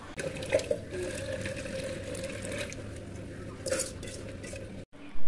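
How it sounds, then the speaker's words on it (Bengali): Cut bitter gourd and potato pieces being washed in a bowl of water, with splashing, sloshing and a few light clinks of a metal pot, fairly close and with no talk. "এখানে আমি এই যে করলা আলু আমার কাটা হয়ে গেছিলো, এই জন্য আমি খুব সুন্দর করে ধুয়ে নিচ্ছিলাম ভালো মতো।"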